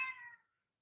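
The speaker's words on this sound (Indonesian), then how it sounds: "Kasih ke belakang ini kucing ini ribut sekali," A domestic cat lets out a single short meow, clear and close, fading away quickly into silence.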